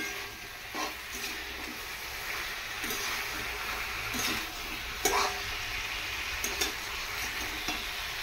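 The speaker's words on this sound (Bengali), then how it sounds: "ভালো করে এবার নাড়িয়ে নেবো এটাকে।" Food is stirred in a cooking pan over steady sizzling frying, with repeated soft scraping strokes of the utensil, close and moderately quiet.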